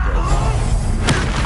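A Confringo explosion spell goes off in Hogwarts Legacy, a loud, dense boom with a whooshing burst near the end, heavy and close throughout.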